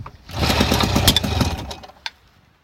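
Johnson Seahorse 4HP outboard motor on a start attempt, sputtering loudly for about a second and a half before dying out, followed by a brief knock.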